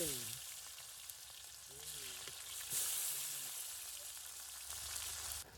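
Chopped onions fry with mustard seeds in hot oil in a village-style kitchen. A steady, dense sizzle fills the whole stretch, with faint tonal sounds drifting underneath.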